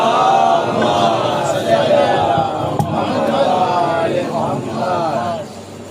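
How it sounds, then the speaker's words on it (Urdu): A crowd at a majlis loudly chanting salawat in unison, a sustained swell of many voices that rises and falls over several seconds. "آواز بلند نعرے سلوات"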